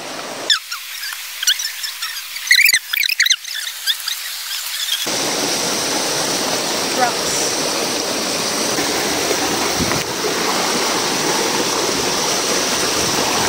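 Waterfall and river water rush loudly and steadily at Budlingin in Alegria, Surigao del Norte, a broad constant roar that takes over after a few seconds of squeaky handling noise.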